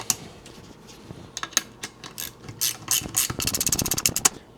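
A hand wrench ratchets on bolts while a Triumph TR4 gearbox is drawn into place, giving scattered clicks that become a quick run of close, sharp ratcheting toward the end.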